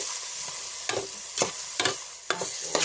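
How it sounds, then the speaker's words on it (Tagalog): Lemongrass, garlic, ginger and onion sauté in a pan, with a soft continuous sizzle broken by several sharp scraping stirs of a utensil at irregular intervals. "magigisa na ako ng tanlad, bawang, luya, sibuyas, tanlad"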